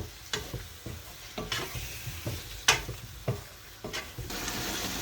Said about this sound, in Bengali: এখানে আমি এখন টমেটো দিয়ে দেবো। টমেটো একটু কষানো শেষ হলে তারপরে আমি আলু দেবো।